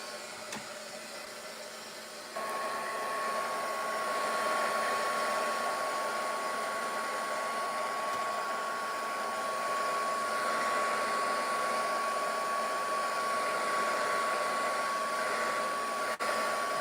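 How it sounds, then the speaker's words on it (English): A heat gun blows a steady, close airflow hiss with a faint whine as it dries paint on small air-dry clay cat figurines, starting after a quiet moment and running continuously. "Okay, let's heat gun these guys."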